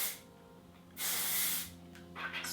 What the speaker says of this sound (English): so I'm going to give this a quick spray